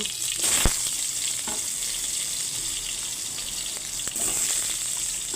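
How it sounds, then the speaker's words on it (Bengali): Potatoes and okra frying in a pan with five-spice tempering and slit green chillies, a continuous close hiss and sizzle with a few brief stirring knocks, no voices. "আলুগুলোকে দিয়ে ভালো করে ভেজে নেব"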